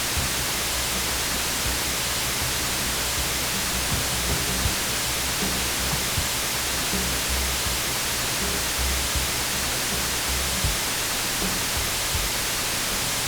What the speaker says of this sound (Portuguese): o ruído branco tem em si todas as frequências audíveis